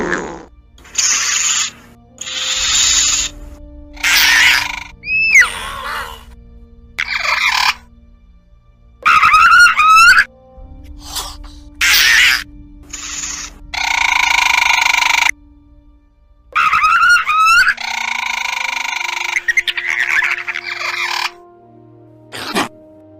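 Compsognathus calls, the small Jurassic Park dinosaur, heard as a series of shrill chirping squeaks and warbling trills in short bursts separated by silence, loud and close.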